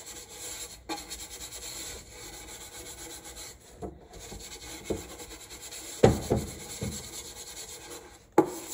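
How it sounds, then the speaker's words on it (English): Wax rubbed along the wooden drawer slides of a secretary desk, a steady soft scraping friction with a few sharper knocks and bumps of wood near the end, close and alone. "while you have these bad boys out, we can wax the slides"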